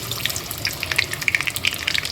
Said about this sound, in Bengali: তেলটাকে ভালো করে গরম করে মিডিয়াম ফ্লেমে কিন্তু ভেজে নিতে হবে।